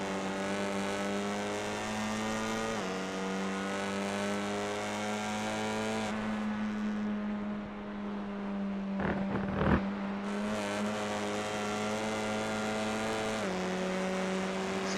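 Honda Civic Type R race cars at Canadian Tire track drone with a steady high-revving engine note, shifting pitch as gears change, with a brief lull and a quick passing whoosh midway.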